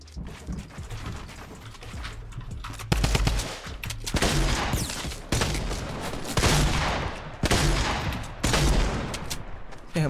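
Shotgun fire in Fortnite Battle Royale: a series of loud, sharp blasts in quick irregular bursts with mechanical clacks between them, up close and dominant, no voices.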